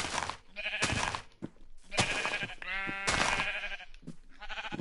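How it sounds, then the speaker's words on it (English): Several loud, close sheep bleats in a video game in quick succession, wavering and nasal, with short pauses between calls. "I'm killing sheep."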